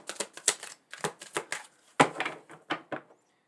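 Rapid, uneven bursts of tarot cards being riffled and slapped together, close by, in a quiet room with short pauses between shuffles.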